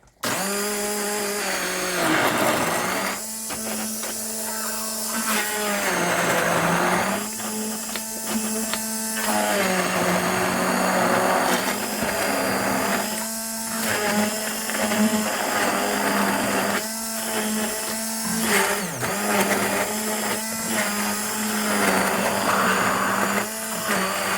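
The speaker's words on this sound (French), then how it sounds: "Maintenant on va mixer le tout ensemble, espérant que ça va pas sortir." A kitchen blender purees lamb in a creamy peanut sauce, its motor roaring loud and steady the whole time, the pitch dipping and rising in several surges as the blades work through the thick mixture.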